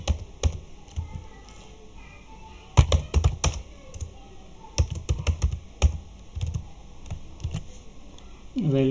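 Typing code on a computer keyboard during a Rails tutorial, with irregular bursts of close, crisp key clicks separated by short pauses.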